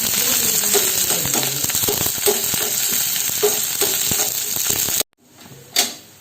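Shallots, two dried red chillies and curry leaves sizzle loudly in hot oil for a Kerala tomato curry, with rapid crackling and spoon clicks. The sizzle cuts out abruptly, followed by a quieter scrape.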